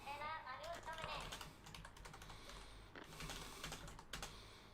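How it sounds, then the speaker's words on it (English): Fast typing on a computer keyboard, with dense, irregular key clicks running steadily and fairly close, while game sounds play faintly underneath. "Oh, wait, I'm typing and I'm not making a poll."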